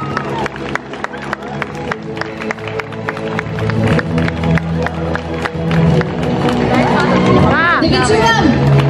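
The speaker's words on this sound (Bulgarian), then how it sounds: "Аплодисменти за тях." A crowd at a dance competition award ceremony in Sozopol applauds a modern contemporary dance group on stage, with sustained clapping, cheering and crowd babble building louder over several seconds while a voice calls out over the noise.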